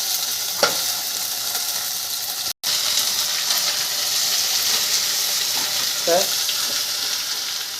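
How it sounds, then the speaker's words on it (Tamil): Sautéed okra frying and being stirred in a pan, a constant close sizzle broken by a sudden brief cut and a few scraping stirs, with no voices. "இப்போ நம்ம அந்த வதக்கி வச்ச வெண்டைக்காயை சேர்த்துக்கலாம்"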